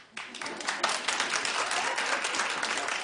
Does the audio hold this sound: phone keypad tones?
no